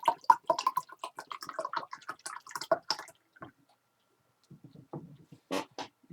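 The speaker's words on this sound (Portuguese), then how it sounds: "E vou transferir essa quantia de água" Water poured from a pyramid-shaped model into a rectangular box container, with a run of close drips and splashy trickles, a pause, then a few more splashes.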